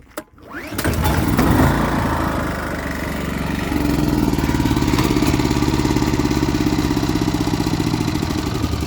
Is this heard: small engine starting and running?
yes